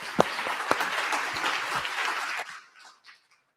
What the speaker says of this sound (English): So everybody, round of applause.